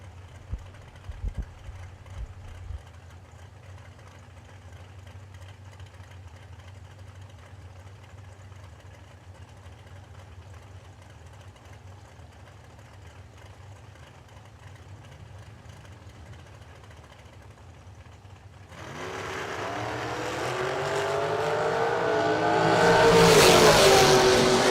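A trans dragster from Bad Habit Racing idles with a low rumble at a bracket drag race, then erupts into a loud, rising roar as it launches down the drag strip.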